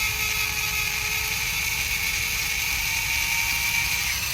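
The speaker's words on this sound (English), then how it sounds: "I want this drill bit to catch" A drill bit grinds into a Toyota RAV4 lock cylinder during rekeying, giving a steady, loud, continuous high-pitched whine that holds without a break for the whole stretch.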